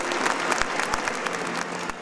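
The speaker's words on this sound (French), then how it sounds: "C'est aussi l'occasion pour les Alsaciens d'applaudir avec émotion Mgr Grallet" A congregation in Alsace applauds the departing archbishop after Mass, a dense, steady round of clapping from a large crowd throughout, moderately loud and unbroken.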